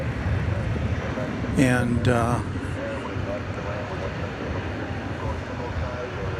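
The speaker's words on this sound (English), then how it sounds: "the Queen of the Sky, Asiana cargo flight 242 going to Seattle" An Asiana Cargo Boeing 747-400 built in 1999 roars steadily on a night at DFW Airport. The jet noise is a constant broadband drone, with a brief spoken word partway through.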